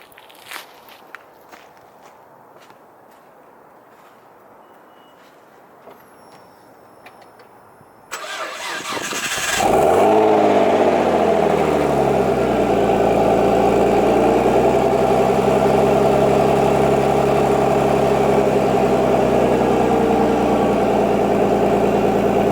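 Near a Nissan R33 Skyline left sitting for about a month, a few footsteps and small clicks sound in quiet, then the engine cranks briefly, fires with a loud rev and settles into a steady, even idle that stays loud.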